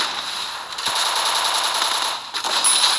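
Rapid automatic gunfire in a shooter video game, a dense, continuous rattle of shots with brief dips, loud and close, with no talk over it.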